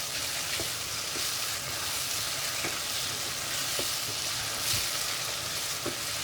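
Boiled eggplant being stirred into fried spices in a pan for baingan bharta, a steady close sizzle with soft periodic scrapes of a spoon against the pan, no voices.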